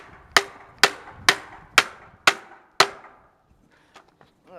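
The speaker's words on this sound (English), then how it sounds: "I just take that hammer" Six sharp, close hammer blows strike plastic scrap in a steady rhythm to crack out a part, each a loud knock with a short ring, then a few faint clicks and a small squeak.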